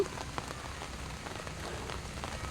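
Steady rain falls over a flower garden of jasmine plants, a continuous close hiss scattered with small drop patters and no talk.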